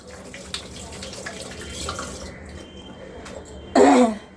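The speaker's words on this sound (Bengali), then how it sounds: "এবার একটু জলটা একটুখানি সার্ফের জল দিয়ে হাতটা একটু ভালো করে ধুয়ে নিচ্ছি" Hands being washed under a running tap with Surf detergent water, a soft wash of splashing that ends in a short, louder gush of water near the end, with a faint cough or throat clearing earlier.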